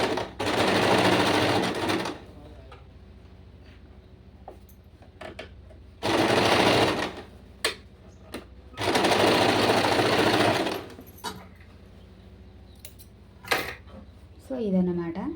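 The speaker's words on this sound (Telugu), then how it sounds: "సో ఇప్పుడు మనం నార్మల్ కుట్ని కొంచెం వేడంగా వేసుకోవాలి అనుకుంటే ఇలా సెట్ చేసుకోవడం." A sewing machine runs a normal straight stitch in three loud bursts of rapid, even clatter, each lasting a couple of seconds, with quieter pauses of clicks and handling between them and a voice talking in the gaps.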